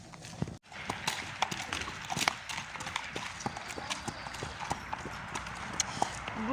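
Horses being walked before riding, their hooves clip-clopping in a steady irregular patter of close, crisp hoofbeats from several animals, continuous throughout with faint background voices.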